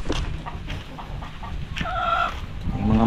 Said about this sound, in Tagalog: Yung mga manok natin, mamaya bibisitahin na naman yan.